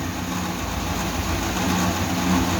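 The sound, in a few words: 1941 Dodge hemi truck engine running with clutch fan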